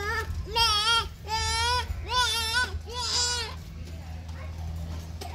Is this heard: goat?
yes